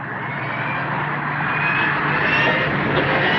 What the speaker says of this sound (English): There's the plane. They've seen us.